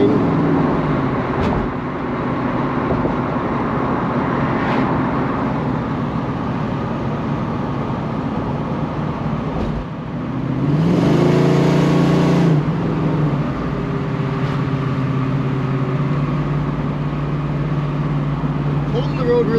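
A 1969 Ford Mustang on a test drive, the engine droning steadily from inside the car with a rising rev and shift midway, faint voices in the cabin here and there.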